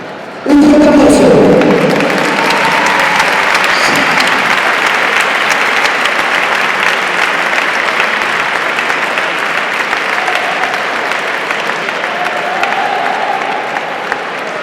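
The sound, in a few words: audience applause at a boxing tribute event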